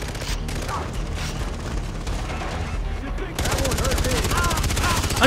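A machine gun in the video game Far Cry 3 fires sustained, loud rapid bursts that run continuously and intensify partway through, with faint voices mixed in.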